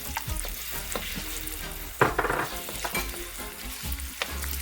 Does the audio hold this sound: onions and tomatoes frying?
yes